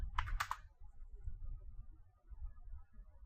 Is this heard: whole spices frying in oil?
no